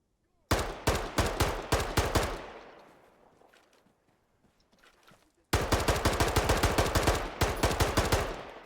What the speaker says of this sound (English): Shots are getting a little bit closer.